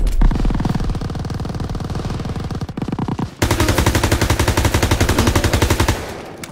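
Rapid automatic gunfire from an AK rifle in the video game Call of Duty: WWII, loud and continuous, with a brief pause midway before a denser, sustained burst of shots.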